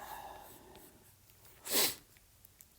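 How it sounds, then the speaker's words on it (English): A single short, sharp sniffle-like burst of breath stands out against a quiet background, with faint noise before and after. "sorry for my sniffles today"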